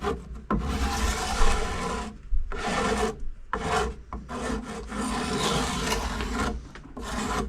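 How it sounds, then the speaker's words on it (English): Shinto rasp with a finer face beveling the edges of epoxied wood on a boat frame, giving bursts of coarse, steady rasping strokes close up, with brief pauses between passes. "I got a Shinto rasp, finer face."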